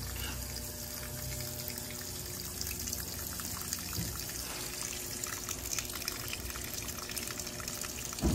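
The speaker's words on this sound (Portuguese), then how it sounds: "que pressão de água é essa para encher esse monte de máquina?" Water rushing steadily into a row of laundry washing machines in a commercial laundry, a dense continuous hiss of high-pressure flow that stays loud and unbroken from start to finish.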